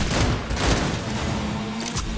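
Rapid gunfire from the shooter game Cyberpunk 2077, a dense burst of loud overlapping shots filling the short moment with no voices.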